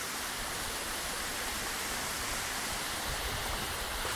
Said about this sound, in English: Oh, there's a lovely waterfall behind me.